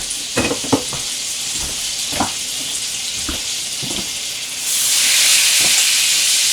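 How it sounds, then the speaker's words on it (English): Cold butter sizzles and hisses steadily as it browns in a pan, with a few sharp spatter pops and stirring clicks, and the frying hiss grows louder and brighter toward the end, with no talking. "I'm going to let this butter break down. Let it brown a little bit."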